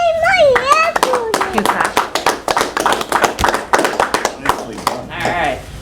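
Applause breaks out in a town select board meeting right after a police officer's swearing-in, many hands clapping in a dense, steady patter, with children's voices and talk woven through and a brief voice opening the moment.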